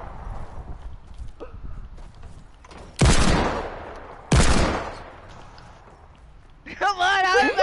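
Two loud, sharp bursts of gunfire from a Michael Myers video game, about a second apart, followed by a player talking.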